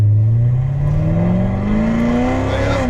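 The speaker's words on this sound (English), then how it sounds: "Car's a bit louder than the Mercedes. It sounds pretty good." A loud Chevrolet Corvette C7 Z06 engine revs continuously on a race track, its pitch climbing steadily as it accelerates, heard close and strong.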